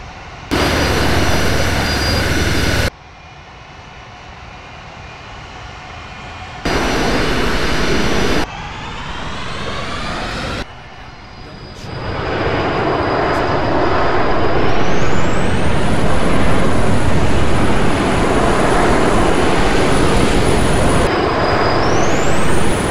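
Jet engines of STOVL aircraft aboard a carrier in the ARMA 3 video game roar loudly in cut segments, swelling into a sustained whine with rising pitch as the engines spool up, with no talk.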